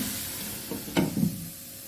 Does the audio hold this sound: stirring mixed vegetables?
yes